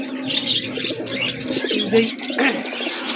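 Domestic pigeons, including a white racer female and males, coo in soft, throaty repeated calls close by, the low burbling rising and falling with a few brighter chirps mixed in.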